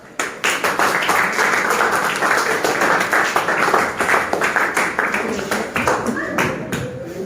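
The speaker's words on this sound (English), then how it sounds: "Clap." A classroom group claps in a sustained round of applause, a busy run of close, sharp hand claps carrying on for several seconds, with a voice faintly present under the clapping.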